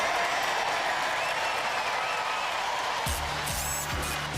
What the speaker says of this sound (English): I think you guys all deserve a big round of applause from everybody in our audience.